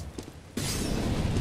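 An incendiary grenade lands in the video game CS:GO. After half a second of faint game ambience, a sudden bright, glassy shatter breaks out and turns into a loud, sustained crackling roar that fills the rest of the moment.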